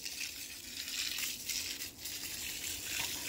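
Water gushing steadily from a pipe that cannot be shut off on a farm, a loud continuous hissing rush that stays close and constant with no speech.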